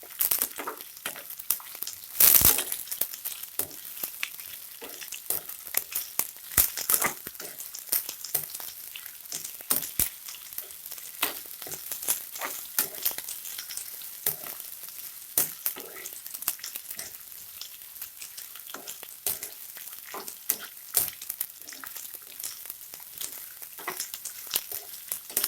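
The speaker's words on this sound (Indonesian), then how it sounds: "Kita aduk ya." Green beans are stirred in a hot pan for a tauco gulai with tofu and beef tendon: a steady, close fry sizzle broken by sharp crackling pops and scraping stirs, with no talking.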